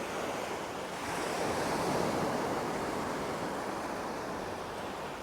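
Surf rolls in on a windy afternoon at Songdo Beach in Busan, South Korea, a broad steady wash of waves swelling and easing with wind buffeting the microphone and no voices.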